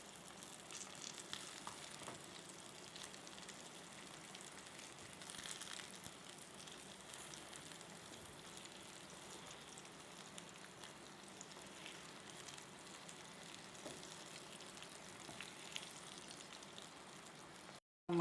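Slices of brinjal coated in masala fry in a pan, giving a steady, close sizzle that runs unbroken throughout with no talking.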